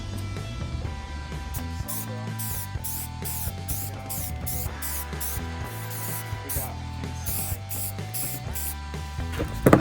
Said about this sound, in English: Now it's time to spray it down.